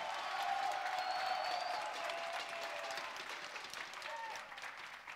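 Applause for the Romanian team Nexus Gaming after a CS:GO match against Outlaws at the Let's Play Spring 2017 event, a steady, fairly faint patter of clapping from an audience.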